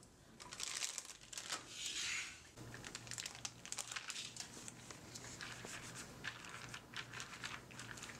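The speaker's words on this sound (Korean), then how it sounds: "공기를 빼면서 지퍼백을 닫아주세요." A plastic zipper bag holding milk and condensed milk is pressed flat and sealed, giving bursts of crinkling and rustling followed by lighter, scattered plastic crackles.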